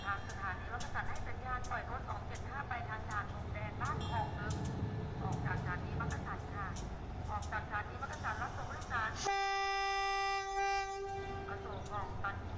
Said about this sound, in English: This is the train I just caught, now at Makassan Station.